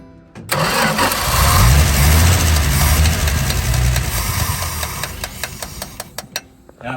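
An old slant six engine in Arkansas cranks and catches, then runs loud and rough up close for several seconds, sputtering and stumbling as it starves for fuel before faltering near the end.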